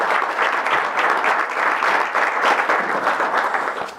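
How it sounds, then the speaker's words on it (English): Sustained applause at a tribal council meeting honoring young Cherokees, a dense, even roar of many hands clapping at moderate distance for the full duration without talk. "how about one more round of applause for these bright young Cherokees?"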